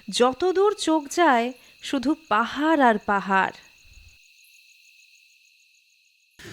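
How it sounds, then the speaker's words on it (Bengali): Crickets chirp on an evening in the Darjeeling hills near Sittong, a steady thin high trill that runs under a voice and then carries on alone after he stops. "ঝিঝির ডাক"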